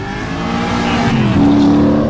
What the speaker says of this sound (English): these are a lot of tires being burned up